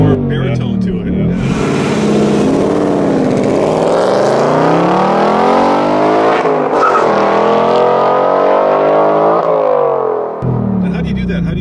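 A 2018 Ford Mustang 5.0 V8 with a fully variable exhaust revs hard, the deep engine note climbing and falling in long sweeps, loud and close, with brief talk at the start and end.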